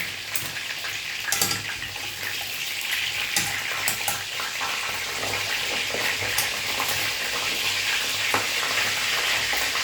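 Food frying in a pan with hot oil, a steady close sizzle and crackle running throughout, with occasional sharp pops and spatters and no talk over it.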